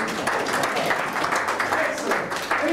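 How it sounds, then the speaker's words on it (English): An audience at a panel Q&A session gives a round of applause, steady mid-level clapping from many hands with a few louder claps, and some voices talking underneath. "A round of applause."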